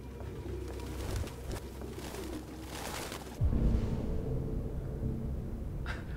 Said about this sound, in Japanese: ハトが邪魔。